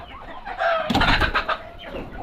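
A hen clucks at a nest where eggs are being laid, a short burst of loud, close clucks rising in the middle and trailing off, with no talking.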